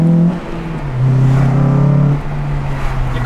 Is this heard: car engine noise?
yes